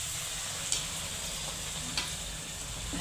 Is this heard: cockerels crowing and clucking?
no